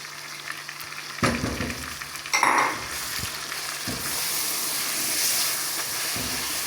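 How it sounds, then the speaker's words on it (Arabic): Onion, tomato and garlic frying with chicken for an Algerian olive tagine: a hissing, steamy sizzle that swells and settles, broken by several sharp clatters of stirring against the pan. "نزيدو نلوحوهم يتقلاو مع الدجاج مليح"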